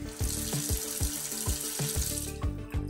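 Water runs steadily from a bathroom sink tap with a full, splashing rush, while rhythmic low thumps and a pulsing beat sound beneath it throughout.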